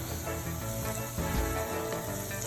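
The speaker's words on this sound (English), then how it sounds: "Add 1 stick of butter to our skillet." A stick of butter melts and sizzles in a hot skillet with a steady crackling hiss and a few louder pops partway through.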